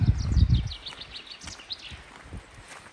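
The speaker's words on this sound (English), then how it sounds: "So it's a nice day, birds are singing" Birdsong on a cold, sunny spring day in the Lake District, with daffodils under the trees: several small birds chirp and trill in short repeated phrases at moderate distance, above faint rustling and a few low thumps at the start.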